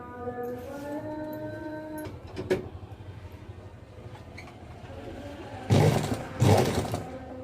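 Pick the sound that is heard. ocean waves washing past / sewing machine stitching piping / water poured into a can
sewing machine stitching piping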